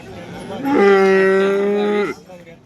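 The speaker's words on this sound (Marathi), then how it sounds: "मोठी म्हैस बाजारातली मोठी म्हैस" A large buffalo at a livestock market lets out one loud, close, drawn-out low moo lasting just over a second, with faint background noise around it.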